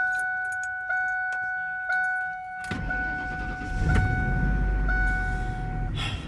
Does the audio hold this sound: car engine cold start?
yes